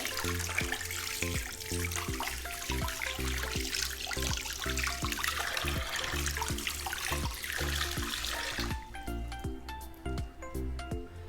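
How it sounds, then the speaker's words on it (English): Tap water running steadily from a faucet to wet the elbows before handwashing, a continuous loud splash over a low rhythmic hum that thins out near the end. "Turn on the tap water and wet our elbow."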